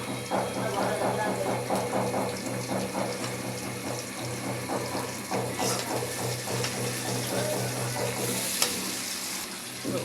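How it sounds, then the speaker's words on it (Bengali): Garlic, onion and green chilli frying in hot oil, a loud continuous close sizzle with stirring scrapes and crackles throughout, no voices. "এই যে তেলে ভেজে নিচ্ছি আগেটি"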